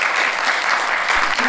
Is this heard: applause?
yes